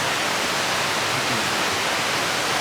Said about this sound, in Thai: เสียงน้ำไหลไพเราะสนองหูเหลือเกินนะ